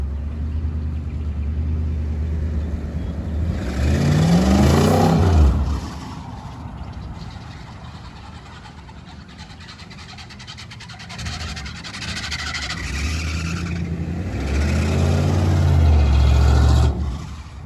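A 1977 Chevy Nova engine runs rough through a holed stock one-in, two-out muffler mounted sideways ahead of the gas tank. It rumbles low and loud, swelling into two revs early and late with a steadier idle between.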